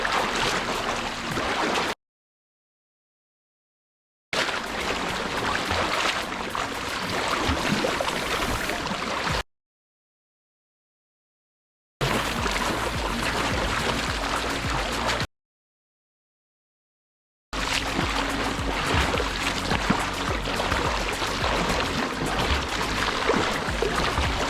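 Freestyle strokes in open water churn and splash in steady bursts, broken by several short silences between sections, a continuous rushing wash of water close to the listener.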